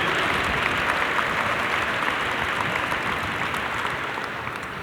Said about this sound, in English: give them all a round of applause for their commitment